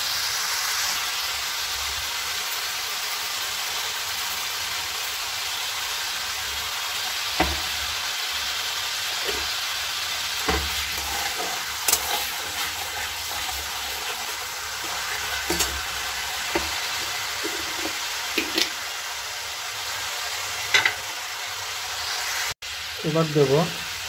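Cumin seeds crackling in hot oil for a potato chicken curry, a continuous close sizzle with scattered pops and small clinks, with no voices heard.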